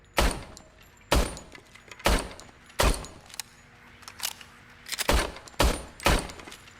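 About eight sharp gunshots from a video game, Robocop: Rogue City, fired one by one at uneven intervals, loud and punchy with brief echoing tails between shots, no speech.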